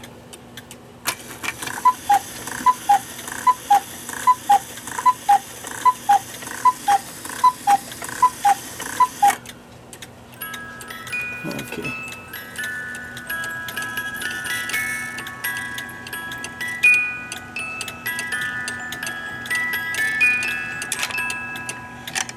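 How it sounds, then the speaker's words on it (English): A chalet-style cuckoo clock struck for ten o'clock, giving a run of evenly spaced two-note cuckoo calls over steady ticking, then tinkling music-box tones; a voice speaks briefly. "bird door doesn't shut after it cuckoos unless you touch it, so probably just needs cleaning"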